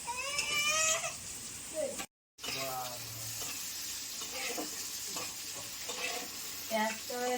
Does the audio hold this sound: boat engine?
no